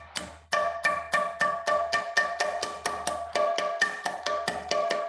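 Mridanga drum played in a rapid run of sharp, ringing 'ta' strokes with a bright metallic, tin-like edge, about twenty evenly spaced hits over five seconds, close and fairly loud with no talking.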